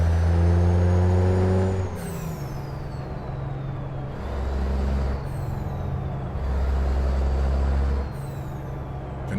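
Caterpillar-engined truck in American Truck Simulator with the cab window open: a loud, steady diesel drone with rising and falling engine pitch through gear changes, and sharp hissing air-brake bursts breaking in several times.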